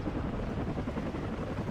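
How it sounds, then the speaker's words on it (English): Helicopters in combat in the video game WARNO give a dense, steady rotor roar, loud and unbroken for under two seconds with no voices over it. "Here our helicopters are firing off, but they are getting hit by anti-air."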